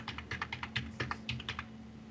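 Quick bursts of computer keyboard typing while entering a username and password during a WordPress install, close and crisp with about a dozen clustered keystrokes over a steady low electrical hum, no voices.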